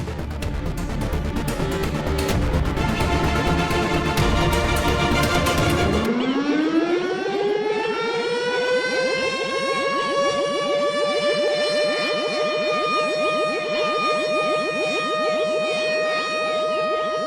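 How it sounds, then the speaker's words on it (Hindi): A harsh, noisy blare gives way to a loud warning siren that rises in pitch and then holds a steady, wailing tone for a long stretch. "ये उनका चेतावनी सायरन है"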